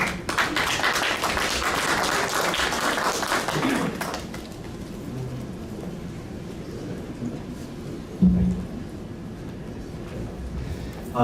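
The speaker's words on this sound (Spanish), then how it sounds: "recibamos al doctor Matos con un aplauso" An audience at a medical symposium applauds to welcome a doctor, a steady patter of clapping that lasts about four seconds and then drops away to a quiet room with a brief bump of noise later.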